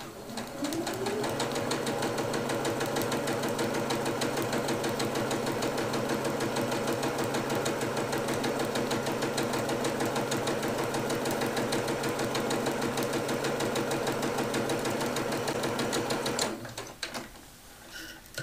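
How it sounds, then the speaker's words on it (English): Sewing machine stitching down a folded cotton edge, a fast steady mechanical whir and needle rattle running unbroken for about sixteen seconds, close and loud, then stopping with a few small clicks. "And then stitch that down at the machine."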